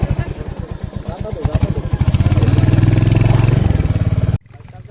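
A motorcycle engine chugs close up with rapid exhaust pulses, revs up into a steadier, louder drone, then drops abruptly to a quieter idle while voices talk nearby.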